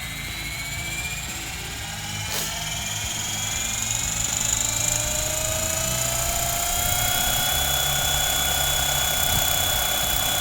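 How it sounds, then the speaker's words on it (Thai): A Royal Thai Navy–style UH-1 radio-controlled model helicopter spinning up its rotor, a steady whine rising in pitch over about ten seconds, loud and close with a constant engine drone beneath. "เร่งไปประมาณ 2 ขีดนะครับ รอให้ใบพัดหมุนสุดเสียงนะครับ"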